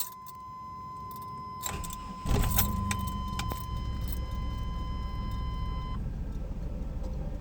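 A Chevy S10 Blazer with a 4.3 V6, fresh from a throttle position sensor replacement, starts up: keys jingle, the starter cranks briefly, then the engine catches and settles into a steady, close idle.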